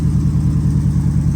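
A supercharged Ford F150 idles through a hand-welded stainless steel exhaust, giving a steady, close, low rumble with an even pulsing throb and no revving.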